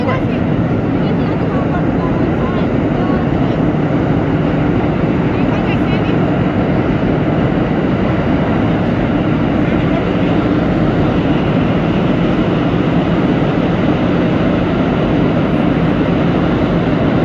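Onboard an R32 New York subway train on a Brooklyn-bound Q Express run, a loud, constant rumble of the car rolling along the track, with voices talking over it.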